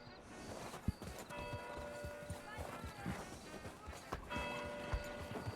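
Horse hooves clip-clopping in the WildRP game, a steady uneven walking rhythm of soft thuds under background music and ambient game sound.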